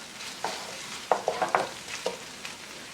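Okra fries in a pan on medium-high heat and is stirred and flipped, giving a soft steady sizzle broken by several close scraping clatters, with no voice.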